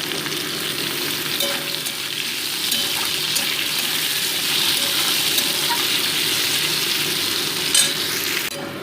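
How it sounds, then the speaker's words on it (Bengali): Chopped onions fry with potatoes in oil in a pan for a Bengali egg, potato and soybean curry, giving a steady close sizzle with soft stirring scrapes and an occasional clink of the spatula. "পেঁয়াজটাকেও আমি নেড়ে দিয়ে ভেজে নেব।"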